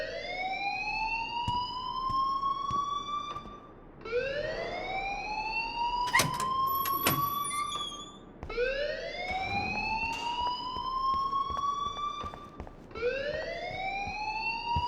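An alarm in the video game Life is Strange wails in four long rising sweeps that repeat steadily and loudly, with a few clicks between them.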